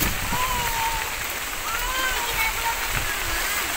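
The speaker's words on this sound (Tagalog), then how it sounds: "Lakas na ng ulan." Heavy rain pours down steadily as a loud, continuous hiss close by, with faint voices and chatter audible underneath.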